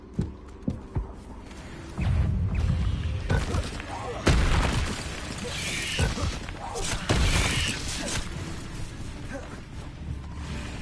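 Confringo explosive spell in Hogwarts Legacy, several loud booming blasts going off in a row over a noisy combat background, with voices talking around them.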